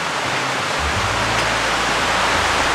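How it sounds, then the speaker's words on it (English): Rain begins at a mountain campsite in the Singalila forest near Sirikhola, heard as a dense, steady hiss that fills the scene without any voices. "you can hear it, it started raining"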